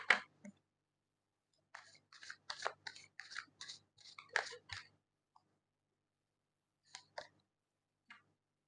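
Tarot cards are shuffled close by in a quiet room, with a brisk burst of riffling clicks and rubs, then a few isolated soft flicks after a pause.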